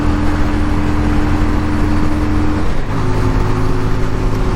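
Yamaha Virago 250 motorcycle from 1988 held at full throttle on the road, a steady loud engine drone with wind roar, the pitch dropping noticeably as it downshifts into fourth partway through.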